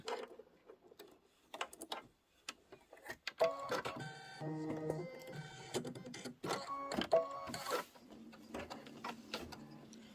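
A Kimberbell embroidery machine stitches out a tomato fill design, its needle chattering in a fast, steady mechanical rhythm with brief pauses, heard close and alone.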